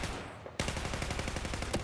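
Rapid gunfire in a first-person shooter game, a dense stream of sharp repeated shots that bursts in abruptly and continues steadily and loudly to the end.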